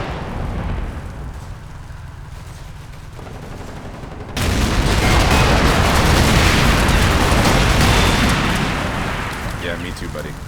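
Cannon fire in the game Combat Mission: Black Sea starts as a low rumble, then erupts into a loud, dense barrage of explosions and gunfire that slowly fades.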